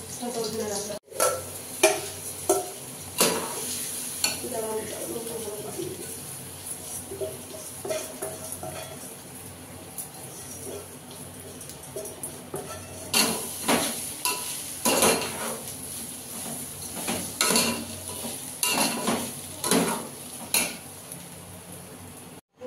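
Rice fried in ghee with cashews and raisins in a pan: a soft continuous sizzle under repeated clanks and scrapes of a spoon against the pot, arriving in irregular bursts, with no clear talking.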